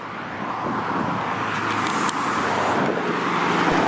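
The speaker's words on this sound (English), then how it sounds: "Oh, here comes a My Way bus." A late 2000s New Flyer D40LF city bus passing on a residential street in Etobicoke, Toronto, a loud steady roadway roar that builds slightly as it goes by.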